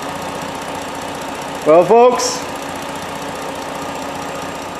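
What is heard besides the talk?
Herbie car idling with swapped Ford 3.7 Duratec engine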